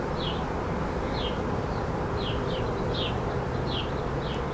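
Honeybees hum around an observation hive and nuc box, a close, continuous buzzing with repeated high whirring passes of individual bees over a steady low drone.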